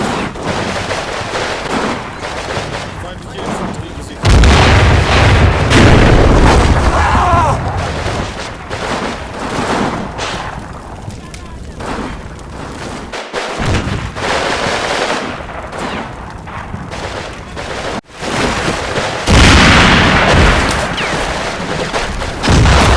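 Close-in infantry fighting in the war game Combat Mission, with bursts of machine-gun fire, rattling gunshots and heavy booming explosions that come in waves, loud and continuous, with brief sharp breaks between heavy volleys.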